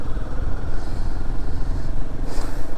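A Royal Enfield Himalayan 450 motorcycle is ridden with its engine rumbling loudly and steadily close by, and wind buffeting pulses across the whole stretch.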